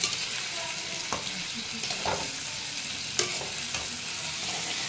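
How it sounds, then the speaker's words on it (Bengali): Spring onions and peas frying in a pan while being stirred, a steady sizzle with a few scraping stirs at intervals, close and fairly loud, no talking. "পেঁয়াজকলি, কড়াইশুঁটি, এইসব দিয়ে একটা ভাজা হচ্ছে"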